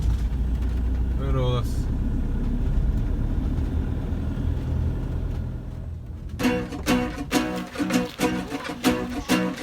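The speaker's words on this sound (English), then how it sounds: "we're encountering some heavy traffic" Traffic crawls on a busy Italian road toward Pompeii, a steady engine drone and passing cars heard from inside a motorhome, then a person talks over the hum.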